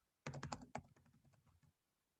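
Rapid typing on a computer keyboard: a dense burst of crisp, close keystrokes lasting about a second and a half, then tapering off into quiet, with no voices.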